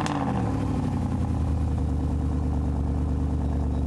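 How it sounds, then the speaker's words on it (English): A Mercedes-Benz SLS AMG with 563 horsepower runs at an auto show, giving a close, steady, deep engine rumble after a brief sharp start, continuing unbroken throughout. "The Mercedes-Benz SLS AMG becomes even more beautiful once you hear the roar of the"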